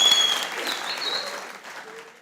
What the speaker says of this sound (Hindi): तालियां बजाओ बेटा